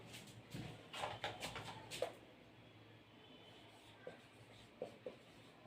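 Chalk or marker strokes on a classroom board during a physics lesson, a cluster of quick scratchy strokes followed by a quieter pause and a few more isolated marks, faint and close.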